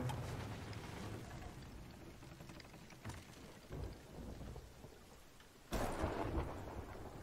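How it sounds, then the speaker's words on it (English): A thunderstorm rolls over the sea in Sea of Thieves, with steady rain hissing throughout, low rumbling thunder and a sudden loud crack of thunder late on. "But now I'm right in the midst of the storm."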